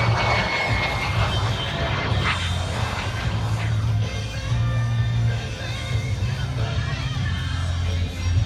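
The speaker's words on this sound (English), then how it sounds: "Some of his sponsors that helped keep this 1943 vintage Vampire jet flying for Jerry Conley." A 1943 vintage de Havilland Vampire jet flies over treetops at the 2018 Greater Binghamton Airshow, its engine a sustained, fairly distant roar under crowd murmur and a commentator's voice.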